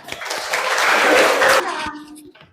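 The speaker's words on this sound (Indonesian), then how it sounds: "Tepuk tangan." Applause from a classroom of students after a group presentation, a dense burst of clapping that swells for about a second and a half and then thins out into scattered claps and murmuring voices.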